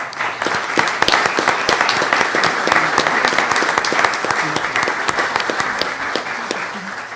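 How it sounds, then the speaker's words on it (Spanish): Sustained applause from a conference audience honoring an award recipient at a genealogy lecture, dense and loud throughout with many overlapping claps, close and steady before easing slightly at the end. "Un aplauso, por favor, para Antonio Guerrero Aguilar."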